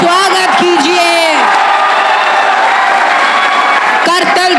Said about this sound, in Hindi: जोरदार तालियां प्रशांत सर के लिए